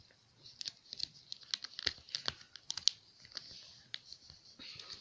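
A blackhead strips package being torn and opened by hand, a run of close, crisp plastic crinkles and rips with short sharp snaps, fairly quiet.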